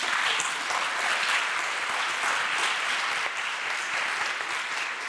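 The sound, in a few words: audience applause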